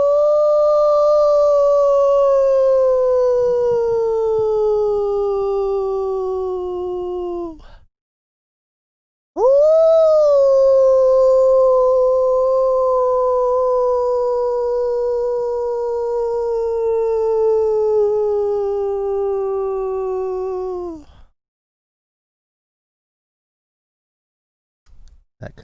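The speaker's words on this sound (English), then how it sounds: "That concludes our nightly howl." A long, loud sustained howl in two drawn-out phrases, each sliding gradually downward in pitch, separated by a brief silence, with no talking over it.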